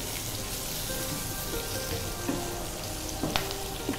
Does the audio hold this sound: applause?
no